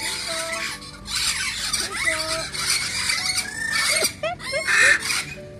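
Parrots squawk and screech in a public park aviary at Passeio Público in Curitiba, Brazil, loud repeated shrill calls that overlap and rise and fall almost continuously.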